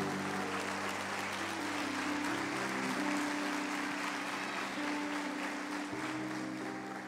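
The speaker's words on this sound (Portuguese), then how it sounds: "dê uma linda salva de palmas para Jesus" A church congregation applauds in a steady, sustained wash of clapping, fairly distant and even throughout, with faint organ or keyboard tones held underneath.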